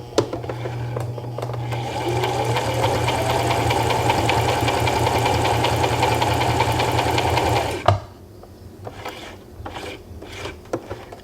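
A Brother 3817 sewing machine stitching a blind hem (stitch 12) runs with a steady, fast mechanical whir for about eight seconds, then stops abruptly, leaving faint handling clicks.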